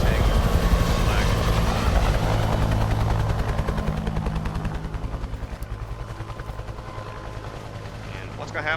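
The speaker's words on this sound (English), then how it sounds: "I see a helicopter coming over soon." Colonel Korshunov's helicopter in the Stalker 2 video game thunders overhead with loud, rapid rotor chopping and a heavy engine drone. The sound is close at first, then slowly recedes and grows fainter over several seconds.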